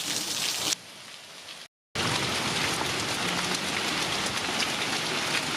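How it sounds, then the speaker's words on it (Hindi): Rain and hail pelt a mountain trail near Kedarnath, a continuous hissing patter of drops striking surfaces close by, cut off briefly once and then resuming just as heavily. "कभी बारिश हो जा रही है, ओले भी पड़ रहे हैं।"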